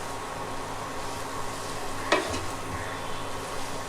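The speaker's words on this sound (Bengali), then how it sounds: "অন করে বাগারের তেলটা কুশির সঙ্গে ভালো করে মিক্স করে দিব।" Oil is stirred into ash gourd in a pan on a lit stove, a steady low sizzle with soft scraping and one sharp clink of the spoon midway, no talking.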